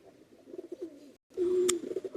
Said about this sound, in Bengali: কোয়ালিটি দেখেন কবুতর দেখেন